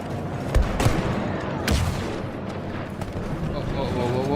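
Tank cannon fire in the Star Wars Battlefront 2 beta, a couple of booming blasts amid dense battle noise and scattered gunfire, loud and continuous throughout.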